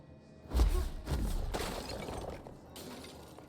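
Glass walls shatter in the video game Control, a sharp loud crash followed by a spray of tinkling fragments and debris that trail off over a few seconds.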